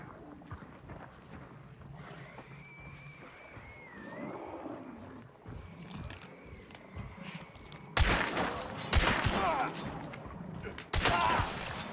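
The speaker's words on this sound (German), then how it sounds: "Oh, hier wird geschossen." Sharp bursts of gunfire in the video game Hunt: Showdown break out after a quieter stretch with scattered sounds and a tone, loud crackling volleys toward the end.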